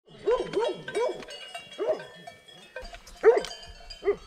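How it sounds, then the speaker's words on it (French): Dogs barking during a mountain hike in the Vallée des Merveilles area, a series of sharp, fairly close barks in quick bursts with short pauses, ending in a couple of spaced final yelps. "C'est bien les chiens."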